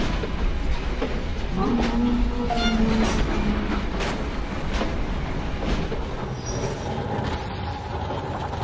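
A heavy train car pushed along rails in the video game Metro: Last Light, a continuous low metallic rumble with grinding squeals, clanks and a few sharp knocks, steady and close throughout.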